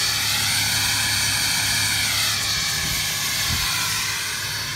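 A 2017 Ram Laramie Cummins diesel pickup with its exhaust deleted runs steadily, giving a continuous low engine drone with a fairly deep, prominent tone and a broad hiss, close and loud with no talking.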